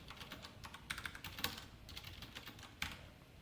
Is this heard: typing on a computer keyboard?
yes